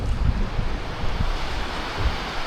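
Surf washing in close to shore below the spot, a steady broad rush with low rumbling swells, partly buffeted by wind noise on the microphone, no talk over it.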